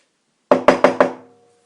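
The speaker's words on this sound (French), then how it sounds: "Il frappe à la porte." Four even knocks rap on a wooden door in quick succession, close and distinct against silence, each with a short ringing decay.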